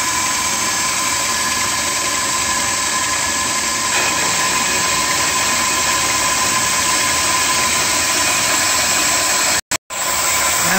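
A lathe turns a cast iron workpiece with a steady, loud mechanical drone and faint whine running throughout, the motor hum holding even with a brief cutout near the end.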